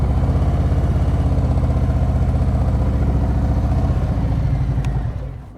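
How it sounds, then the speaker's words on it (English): A motorcycle engine idles loud and close as the rider coasts to a stop with the clutch pulled in during slow-speed practice, a steady low pulsing throb that fades and drops away at the very end. "I want you to listen to my engine."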